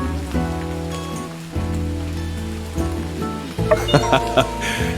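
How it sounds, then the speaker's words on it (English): Rain falls in the farming-life game My Time at Sandrock, a steady soft patter blended beneath a melodic in-game music score that grows brighter and busier toward the end. "This is your first rain in SANDROCK, isn't it?"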